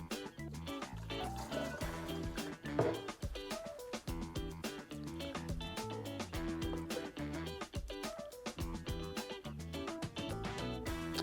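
Liquid herbicide being mixed, with gentle pouring and trickling of liquid running steadily at a low level beneath a dense layer of music.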